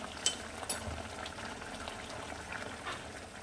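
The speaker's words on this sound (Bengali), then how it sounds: "মিনিট খানেক ঝোলটা ফুটে উঠেছে" Thin Bengali folui fish curry broth boils in a pan, with quiet bubbling, small pops and fizzing close by and no voices.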